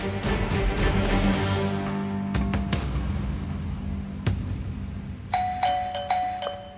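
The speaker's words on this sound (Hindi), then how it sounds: "कौन है जो घंटी पे घंटी बजाए जा रहा है?" A doorbell in a TV drama scene chimes several times in quick succession, bright ringing tones sounding over a low background hum, with a few sharp knocks in between.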